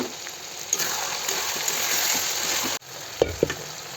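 Chicken cooking in a pan with masala and meat masala, being stir-fried over steady hissing sizzle with a few soft scraping stirs, close and continuous, briefly dropping out before resuming.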